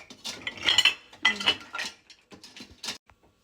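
Metal utensils and a measuring cup clink and clatter on a kitchen counter in several quick bursts, close and fairly loud, with brief pauses between handling sounds while preparing to mix flour, baking powder, salt and sugar.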